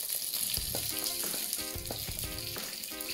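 Olive oil poured into a hot pan sizzles and crackles steadily at close range, with a few soft clinks and stirring noises over the frying hiss.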